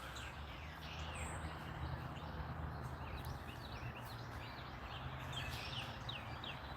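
Birds chirp outdoors on a warm day, faint scattered tweets and short call phrases over a steady low background rumble, with no one talking.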